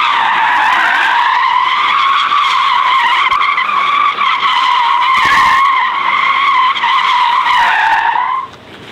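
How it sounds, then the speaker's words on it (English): Tesla Model S Plaid doing donuts with sustained, loud tire squeal, a steady high-pitched screech that runs continuously for about eight seconds before cutting off. No engine roar is audible beneath it. "World's quietest donuts."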